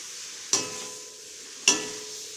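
Chicken with spices stirred in a frying pan for a Chicken Kolhapuri, a steady sizzle underneath with two sharp scraping knocks of the spoon against the pan about a second apart.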